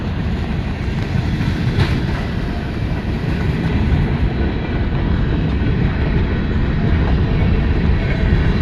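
A BNSF freight train led by three engines rolls past in the rain, a loud, steady rumble with wheel clatter and the wash of rainfall that holds throughout.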